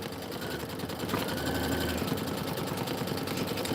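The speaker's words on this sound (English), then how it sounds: "we're doing the quilting stitch right now" Brother embroidery sewing machine running a quilting stitch, a steady fast mechanical whirring and rapid needle chatter, continuous and fairly quiet.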